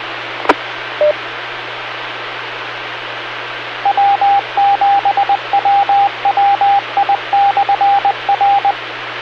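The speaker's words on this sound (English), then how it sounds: "let the repeater identify itself" An amateur radio repeater sends its identification as a string of short, evenly pitched beeps in a Morse-like rhythm. The beeps sit over a steady hiss of radio static after a sharp click.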